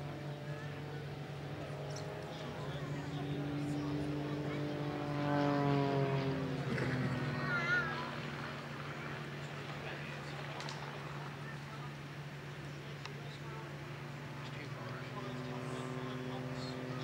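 An RAF Tutor display aircraft flies over Plymouth Hoe during an Armed Forces Day show, its propeller drone rising and falling in pitch at moderate distance while a commentator talks over it.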